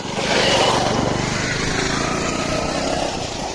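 A motorcycle engine runs steadily close by with a continuous low drone, on a bike taxi ride along the Padma riverbank, with broadband road and wind noise throughout.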